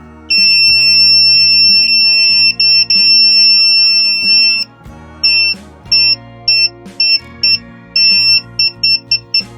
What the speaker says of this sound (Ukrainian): Бузер також повинен бути на 3 вольти.